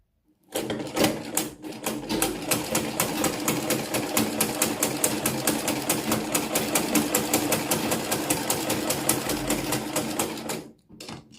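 A Butterfly sewing machine stitching fabric runs steadily for about ten seconds, giving a close, rapid, even mechanical clatter that starts and stops abruptly.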